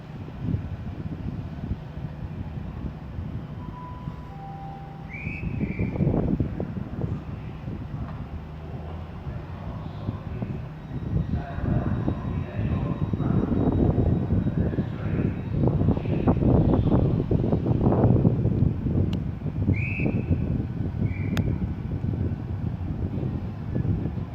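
A Great Western Railway class 800 train pulls out of Slough station, its engine and rolling noise building steadily to a broad rumble, with brief high-pitched tones and wind noise on the platform.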